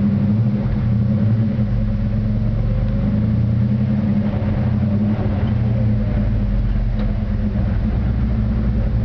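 A 1965 Chevrolet Chevelle SS Malibu big-block with a 4-speed cruising on a ride, a loud steady low engine rumble from inside the car with even drone throughout, no voices.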